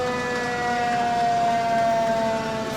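Fire engine Engine 2 sounds its siren at a Fourth of July parade in Burlington, a sustained, wailing tone that holds steady and loud over the low rumble of the truck.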